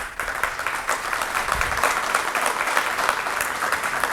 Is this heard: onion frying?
no